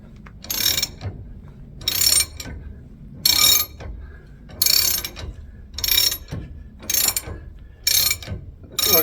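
Ratchet wrench loosening a socket on a man lift hydraulic leveling cylinder during a rebuild: eight loud, evenly spaced bursts of rapid pawl clicking, each about half a second long, with quiet gaps between them and no talk.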